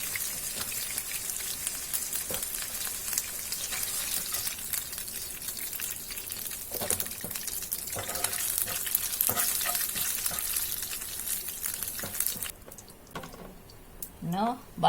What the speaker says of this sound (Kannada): ಈಗ ಮೀನು ಫ್ರೈ ಆಗಿದೆ. ಈಗ ಇದನ್ನು ತೆಗಿತಾ ಇದ್ದೇನೆ.